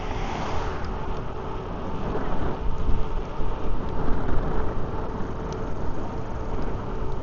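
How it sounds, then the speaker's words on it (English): Rain during an outdoor e-bike ride in Glenwood, Minnesota: a steady broadband hiss of falling drops, mixed with wind and road rumble, continuous and fairly loud throughout with no talking. "A few more raindrops, but I think it's going to be sporadic,"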